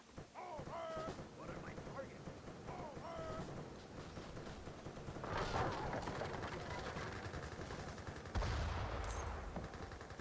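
Unupgraded Gatling guns rattle in Age of Empires 3 as faint, busy fusillades in a dense battle mix, with horse hooves and other combat sounds and commentators talking over them.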